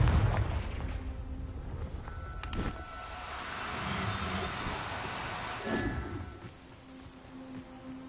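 A deep, rumbling Confringo blasting-curse explosion in Hogwarts Legacy, with a heavy booming roar that swells, carries on for several seconds, then fades.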